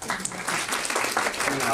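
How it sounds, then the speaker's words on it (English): Audience applause for a colleague introduced at a medical-device quality management seminar, a steady broadband patter of clapping sustained across the whole moment, with a voice talking over it. "Give him some applause."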